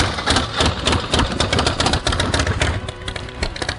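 A 2007 Image Custom Pro-Street motorcycle with custom exhaust, hydraulic clutch and 4-inch open primary idles close by, giving a steady, loud, lumpy engine rumble with no talk over it.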